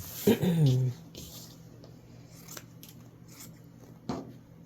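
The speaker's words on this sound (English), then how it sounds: "we're going to take our scissors and we're going to trim." Scissors trim sewn fabric for a scrappy quilted hen basket, with a short, close crunching snip near the start and another brief cut later, set against a quiet room.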